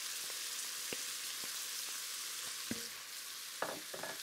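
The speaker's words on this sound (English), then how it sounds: "I'll just stir that around and fry it a little bit just to caramelize it" Tomato paste frying with vegetables in a soup pot, a close, steady crackling sizzle broken by occasional sharp taps and scrapes of a spoon as it is stirred.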